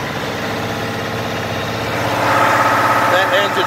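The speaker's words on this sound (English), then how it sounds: "I'm going to go ahead and kick up the RPMs pretty high." The diesel engine of a 2011 Volvo VNL 780 truck idles with a chugging rhythm, then revs higher and louder toward the end.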